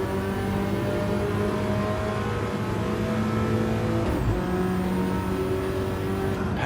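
Race cars in a sim racing game at Watkins Glen, a steady loud engine drone with shifting pitch as cars pass and change gears, one car sweeping by near the middle.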